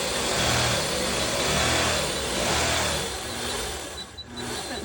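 A longarm quilting machine runs a back stitch on a cuddle blanket, giving a steady mechanical whir and hum that stays loud and continuous, easing slightly near the end.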